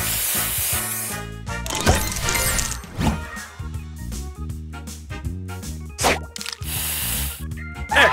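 Spray booster effect from the Match Masters mobile puzzle game, a bright hissing spray burst with shattering, clinking tile breaks layered over upbeat game music and repeated announcer callouts.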